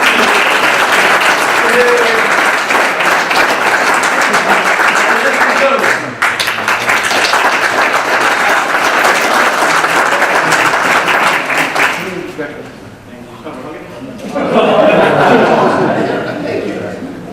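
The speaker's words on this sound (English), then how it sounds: "give a round of applause despite his absence" A graduation audience at an automotive ceremony applauds loudly and continuously, with a brief dip midway before the clapping thins, then a short renewed swell near the end.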